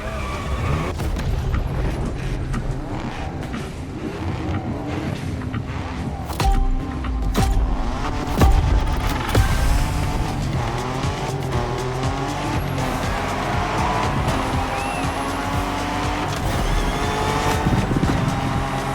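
A Ford Bronco in The Crew Motorfest video game, driving in Hawaii, roars loudly and continuously, with repeated tire squeals and skids over the engine.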